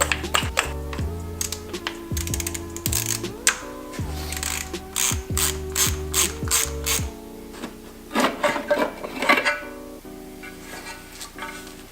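Ratchet clicking in rapid bursts while spark plugs come out of a Honda D16 engine, close and crisp, with short pauses and a few tool and metal clinks between strokes.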